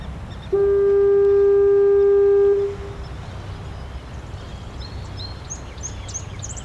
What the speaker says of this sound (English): with the radio, I turned on and recorded the sound of the foghorn.